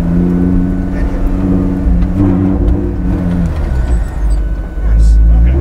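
A Lamborghini Gallardo GT race car's engine winds down loudly as it brakes hard, the drone fading and shifting before a rumbling surge near the end.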